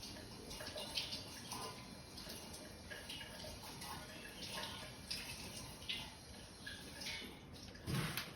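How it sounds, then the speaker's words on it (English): Water splashes and runs as a straight razor and Japanese natural sharpening stone are rinsed, a faint, steady trickle with small splashes and a louder splash near the end, no talking. "I'm quickly going to rinse both razor and stone"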